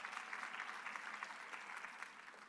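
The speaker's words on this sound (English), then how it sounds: "let's give it a round of applause" Audience applause at a PoshFest 2024 event, a steady wash of clapping from a crowd that holds evenly for a couple of seconds before easing slightly at the end.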